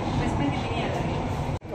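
Riding inside a metro train, a steady, loud rumble and rolling rail noise fill the car continuously, with a brief drop near the end and faint voices in the background.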